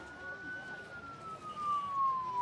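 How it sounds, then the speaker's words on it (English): A police car siren wails somewhere across a city. A single thin, steady tone slides slowly downward and stays faint and distant above a low background hum. "you see like police vehicles with their sirens and lights blinking, rushing in the same direction"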